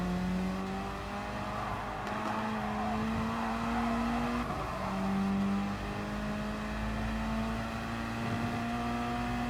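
Gr.4 race cars lap Lago Maggiore West in Gran Turismo Sport, engines droning steadily with rising and falling pitch as several cars run close together, continuous and fairly loud with no talking.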